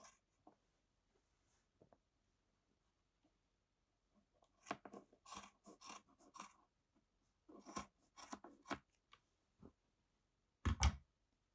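Scissors snip straight across the fringe of a wall hanging in a quiet room, a series of sharp, close, irregular cuts and clicks with pauses between, ending in one louder snap.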